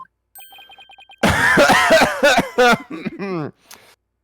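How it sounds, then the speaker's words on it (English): Loud, exaggerated coughing from the Ace Attorney: Dual Destinies video game, with a burst of harsh rasping coughs after a short series of beeping text blips. "Extremely loud coughing noise."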